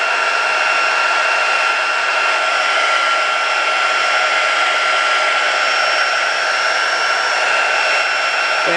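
A handheld heat tool blows hot air in a loud, steady whooshing roar with a constant whine, running unbroken and close for the whole stretch with no talk.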